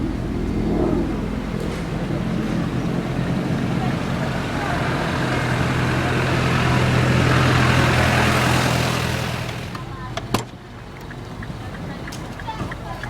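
A 2010 Mini Cooper S engine runs after start-up, a steady near rumble that swells slightly in the middle before settling, with a person talking over it.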